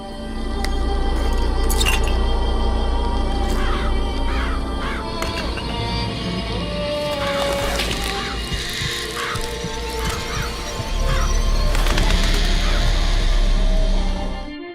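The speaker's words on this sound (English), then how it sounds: "Press to summon murderous crows" Murderous crows summoned in Bioshock Infinite caw and flutter repeatedly, harsh overlapping calls and wingbeats loud up close over a droning game backdrop, with no talk.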